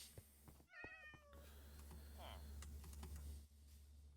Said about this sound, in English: New cat. Hello, new kitty.